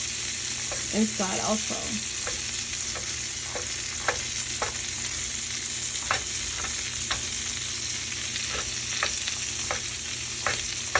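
Hot links, punched with holes, sizzle steadily in a hot pan, with sharp pops and taps of a utensil cutting through and a brief murmur of speech.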